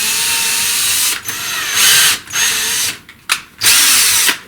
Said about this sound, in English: So I've got to tap these with my hand drill.